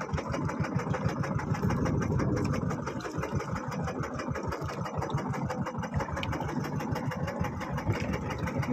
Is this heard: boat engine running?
yes